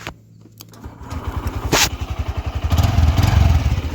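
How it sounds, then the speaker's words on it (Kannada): A new motorcycle engine starts and settles into a steady, close, rhythmic idle thump that grows a little louder, with no talk over it. "ಸೌಂಡು, ಗಾಡಿ ಸೌಂಡ್ ಸ್ವಲ್ಪ ಸ್ಮೂತಾಗಿ ಬರ್ತದೆ"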